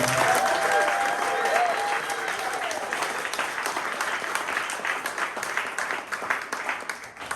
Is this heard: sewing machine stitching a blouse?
no